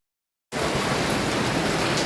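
Heavy rain starts abruptly after a brief silence and pours steadily as a dense, even roar.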